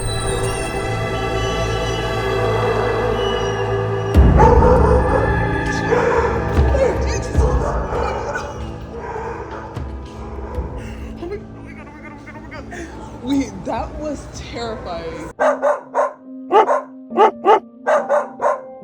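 Several dogs bark loudly at a dog shelter, a chaotic chorus of close and echoing barks and yips that fades gradually, followed by a person speaking briefly.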